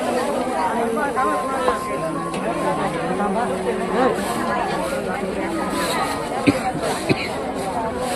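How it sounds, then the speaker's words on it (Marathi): Crowd chatter fills a busy village fair (jatra) in Borli: many overlapping voices in a constant hubbub, with occasional close knocks and clacks. "इकडे जरा जास्तच गर्दी वाटतं"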